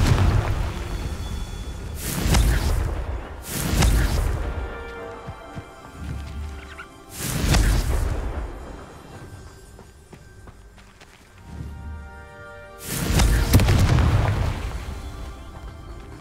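Fiery Confringo spell blasts in Hogwarts Legacy, four loud booming bursts spaced a few seconds apart, each with a broad roaring crack that decays into rumble, alongside lighter thuds between them.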